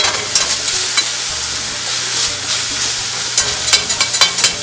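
Onions or tortillas frying in hot butter in a pan, with steady loud sizzling throughout and a few sharper pops and stirring scrapes near the end, no talk.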